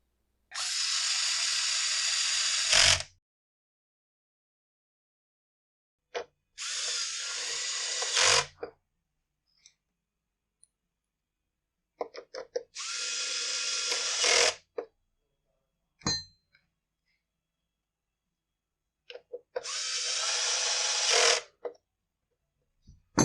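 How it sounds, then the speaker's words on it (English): A cordless bit driver with a lowered clutch setting backs screws out of the plastic housing of a Husqvarna 125B blower. Four separate whirring bursts of about two to three seconds each are heard, with quiet pauses and small clicks and handling knocks between them. "I lowered the clutch setting on the bit driver just to be safe and not strip out any of these screws in the plastic."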